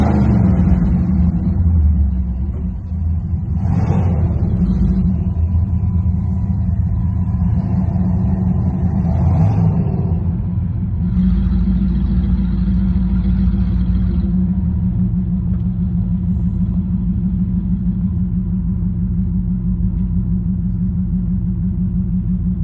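A 2009 street cruiser rumbles steadily through a tunnel, its deep engine drone loud and continuous with a couple of brief revs rising over the echoing roar, and no talk.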